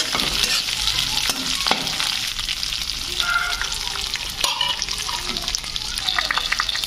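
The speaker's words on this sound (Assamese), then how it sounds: "এয়া মই লৰাই ভাজি আছোঁ" Onion, ginger, garlic, chili and peanuts stir-fried in a pan, a loud continuous sizzle with scraping and stirring clatter of the spatula, close throughout, with brief speech mixed in.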